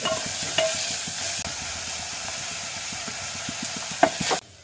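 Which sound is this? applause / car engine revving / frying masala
frying masala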